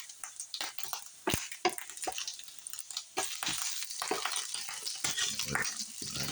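Turkey bacon frying in a pan, a steady close sizzle with irregular pops and crackles over about six seconds, with no talking.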